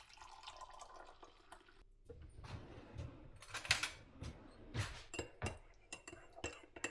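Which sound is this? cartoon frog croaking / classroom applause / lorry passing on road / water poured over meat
water poured over meat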